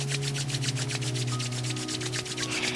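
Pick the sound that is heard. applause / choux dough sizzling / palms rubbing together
palms rubbing together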